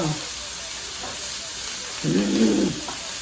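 Chopped onions sizzle in a pan for an onion and garlic gravy. The steady, close hiss swells briefly into a louder bubbling burst, with no voices over it.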